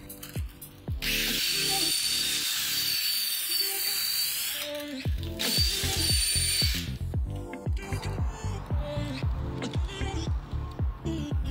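A power drill spins a wooden dowel against hand-held sandpaper, whining steadily with a rising and falling pitch, while rhythmic clicking and thudding carry on beneath it and continue after the whine stops.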